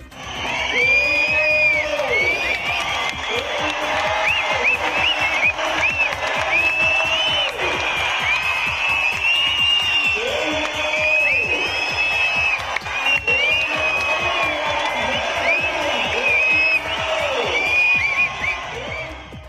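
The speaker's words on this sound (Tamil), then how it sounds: "கூடியிருந்த ஊர் மக்கள் உற்சாகமாக ஆரவாரம் எழுப்பி பாராட்டினர்" A large crowd of villagers cheers, whoops and shouts loudly and continuously at a temple festival pole-climbing event as a climber reaches the top, with applause mixed in and rising, rhythmic waves of voices.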